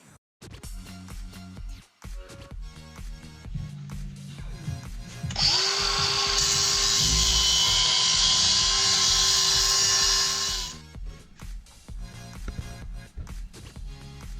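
A power tool grinds off the broken output shaft from a RZR XP 1000 transmission, a loud, high, steady whine that runs for about five seconds between quieter stretches of clinking and handling.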